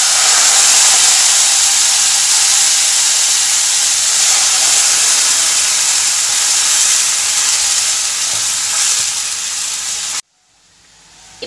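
Water poured into a hot pan of sautéed masala for egg curry sets off a loud, steady sizzling hiss that holds for about ten seconds, then cuts off abruptly into near quiet.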